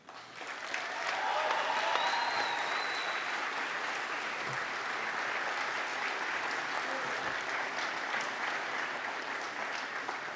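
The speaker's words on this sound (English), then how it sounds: "I invite you to applaud your family, friends, faculty, and staff who have helped you along the way." Graduates at a university convocation applaud steadily for about ten seconds, a dense, even wash of clapping from a large indoor crowd that swells quickly and holds without speech over it.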